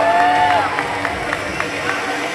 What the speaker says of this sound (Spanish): Un aplauso, por favor. Que se escuche este apoyo.